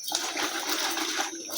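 Washed taro roots are drained as water is poured off them, a steady splashing gush running throughout, loud and close, easing slightly near the end.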